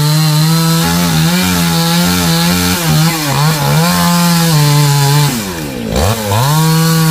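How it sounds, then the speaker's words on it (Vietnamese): A chainsaw roars loud and close, its engine pitch wavering as it bites into the trunk of a 40-year-old coconut tree, dipping sharply near the end as the cut finishes. "Con đầu lấy cái máy thấy cưa của chú Dũng cưa luôn."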